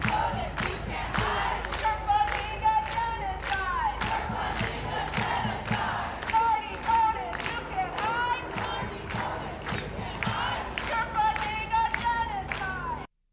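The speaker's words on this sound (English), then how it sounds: "you had the commies chanting this about that guy you just heard, Marty Kotis." Crowd of protesters at UNC chanting in unison, a loud rhythmic cadence of shouted syllables repeating steadily throughout, with some clapping and cheering mixed in.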